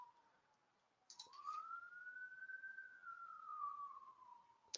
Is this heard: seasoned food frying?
no